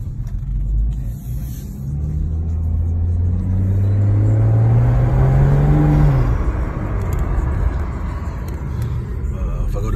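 A BMW with an N55 engine, stage 3 tune and upgraded low-pressure fuel pump drives off, its loud, close engine drone climbing in pitch under acceleration, then easing back to a steady rumble.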